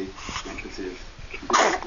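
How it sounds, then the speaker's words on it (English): A short, sharp puppy sneeze bursts out near the end, after a stretch of soft breathy background noise. "Oh, what a good sneeze."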